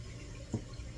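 Water runs from a tap as a glass or container fills, a soft, steady wash with a faint splash, heard briefly, close and quiet, with no talk.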